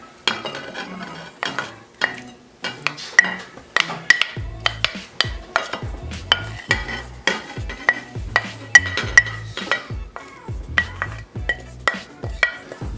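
Shrimp ceviche with vegetables and habanero is mixed in a bowl, giving repeated close, wet clattering strokes of a utensil in a steady rhythm with brief gaps between them.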